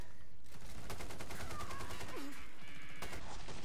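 Rapid automatic gunfire in a zombie shooter game, a fast rattling string of shots with a brief gap near the start and another burst toward the end, plus a faint whistling tone.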